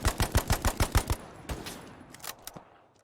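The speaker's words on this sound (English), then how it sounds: "For number 2, I have the M1918A2 BAR." An M1918A2 BAR automatic rifle fires in the shooter game Hell Let Loose: a rapid burst of about eight loud close shots, then a few scattered distant shots fading out.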